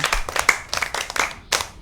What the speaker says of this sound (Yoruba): Ó yá ẹ pàtẹ́wọ́ fún ọ̀gá wa ń bì